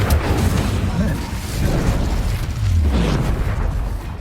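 Explosive Bombarda and Confringo spell blasts in the video game Hogwarts Legacy, a dense run of loud booms and bursts stacked under shouted spell incantations and battle noise.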